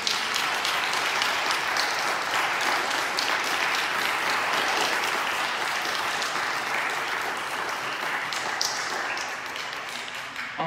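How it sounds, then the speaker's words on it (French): A church congregation at a Sunday mass gives sustained warm applause, a dense wash of many hands clapping that carries on for about ten seconds before it slowly thins out. "Alors je vous invite les enfants à les applaudir chaleureusement."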